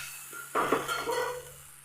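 A ladle of rice flour batter is poured into a large pan and swirled, a sudden close splash and hiss that tapers into a soft sizzle with faint scraping.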